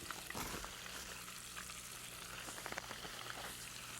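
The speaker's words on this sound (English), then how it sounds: "They're frying pretty good." Oysters sizzle and crackle steadily in hot grease, a faint continuous frying hiss with occasional pops.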